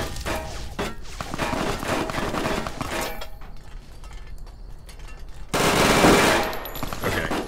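A weapon in Fallout New Vegas, modded with Project Nevada, fires loud rapid bursts of automatic gunfire. A short lull with mechanical clicking follows, then another heavy burst, with no talk over it.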